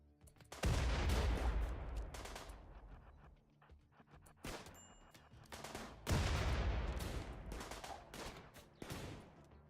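Gunfire in the video game RimWorld, with loud bursts of rapid shots and heavy booming volleys that recur in waves, separated by brief quieter gaps.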